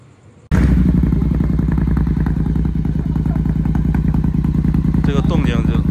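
A powerful 1000–1200 cc motorcycle engine rumbles loud and close, starting abruptly and holding a deep throbbing idle with rising revs toward the end, some speech faint underneath.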